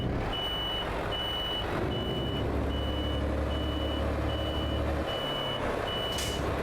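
Euro Truck Simulator 2 truck reversing alarm, a steady repeating series of evenly spaced beeps over a constant low engine rumble, clear and without talk.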